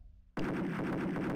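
A Doom II gunshot bursts in abruptly after a short quiet moment, then a dense rattle of continuous fire follows, loud and close.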